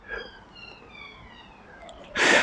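A faint, distant siren wails steadily in the background, then a sudden loud burst of close noise cuts in at the very end.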